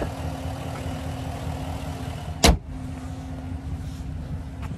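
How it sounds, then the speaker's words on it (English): Hood of a 2024 Chevrolet Tahoe LT with a 5.3-liter V8 popping open, a single sharp latch thump partway through over a steady low background hum. "I'm just gonna pop the hood"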